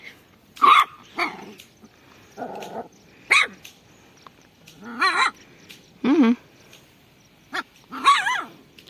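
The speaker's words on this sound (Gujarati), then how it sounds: "જો આ મારા પર ભસે છે" A dog barks in separate sharp bursts, roughly seven times over several seconds, fairly close, with quiet pauses in between.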